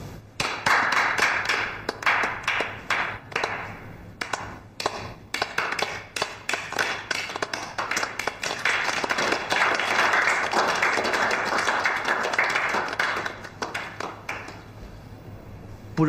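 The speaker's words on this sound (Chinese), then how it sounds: "大家掌声欢迎石小猛先生的加盟。" Office colleagues at a meeting applaud to welcome a new coworker, starting with scattered separate claps that swell into a dense, even round of clapping, then thin out again toward the end.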